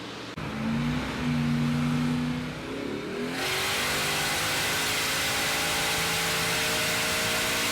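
Turbocharged 700 hp 1UZFE V8 in a Ford running on a dyno, a steady idle that climbs into a loud, sustained full-throttle roar held at high revs, no voices.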